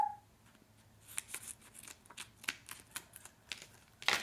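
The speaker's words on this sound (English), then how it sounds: "So I'm just going to take it and trim the edges" Scissors snip around the edges of a paper sail in a series of short, quiet, crisp cuts at an uneven pace, close and soft in an otherwise hushed space.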